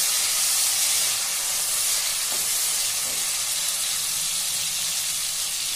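Green chillies sizzling in hot oil while broken wheat vegetable biryani is cooked: a loud, steady frying hiss that holds for the whole stretch with no voices.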